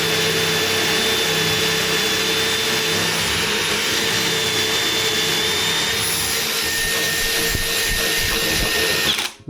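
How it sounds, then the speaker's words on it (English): A power drill grinds steadily through a metal barrel bolt, a loud continuous whine with harmonic overtones that holds for several seconds and then cuts off abruptly. "We're going to drill right through this thing."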